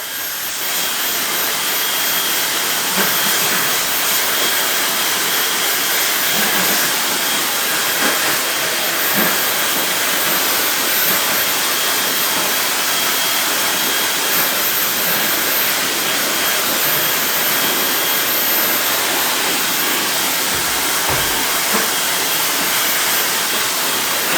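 A hair dryer blows loudly and steadily at close range, a constant rushing roar that barely changes and has no talk over it.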